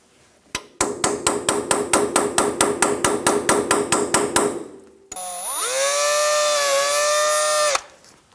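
Sharp metallic hammer strikes on a punch removing a cotter pin from a Toyota Tundra ball joint repeat in a steady rhythm, about a dozen close blows, followed by a long whining mechanical tone that cuts off abruptly.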